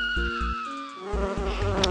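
Wasps buzz in a puzzle video game, a whining drone of layered tones that wavers in pitch over low rhythmic game music, loud and continuous.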